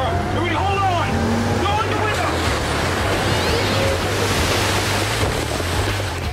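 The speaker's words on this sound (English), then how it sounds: "The surf can come at you from any direction." Ocean surf pounds around a U.S. Coast Guard boat, with loud, continuous wave wash, wind buffeting the microphone and a low engine drone underneath.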